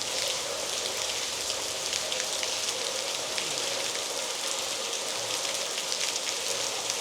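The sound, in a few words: rain falling at a temple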